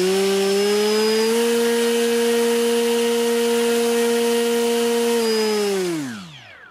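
Small electric motor revved while wired through a ToolkitRC WM150 watt meter, a steady loud whine with stacked tones holding for about five seconds, then spinning down and fading near the end.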